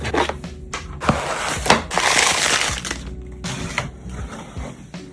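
Unboxing a Trust Redex Plus wireless gaming mouse: crinkling packaging, cardboard rustling and plastic clicks and snaps, fairly loud and close, with no talking.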